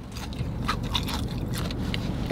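Crispy, crunchy seasoned restaurant food being bitten and chewed up close, with irregular crackling crunches over a steady low background rumble.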